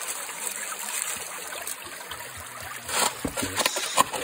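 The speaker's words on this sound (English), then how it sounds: "The water's flowing a bit." Stream water trickles and splashes steadily outdoors while gold is being panned in Scotland, with louder splashy bursts near the end.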